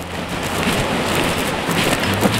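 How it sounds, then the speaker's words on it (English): Heavy rain falls outdoors in a steady, loud, even wash of drops, continuous throughout with no voices. "it's raining really, really good out here"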